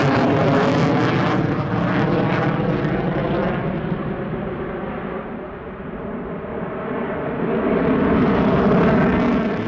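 F-22 fighter jet flying demonstration manoeuvres at the Australian International Airshow, a loud continuous engine roar that swells, dips in the middle, then surges again, heard from the crowd line with no talk.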